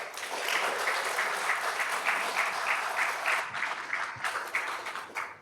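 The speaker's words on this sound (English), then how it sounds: "Let us give the entire team who put this event together a big round of applause." Sustained applause from a sizable law school orientation audience, a dense, steady patter of many hands clapping at moderate distance.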